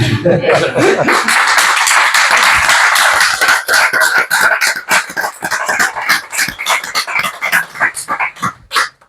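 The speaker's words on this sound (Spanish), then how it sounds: "Un aplauso, ¿no?" Applause from an audience at a Spanish book presentation, loud dense clapping that starts over a voice and then thins into scattered claps before fading out.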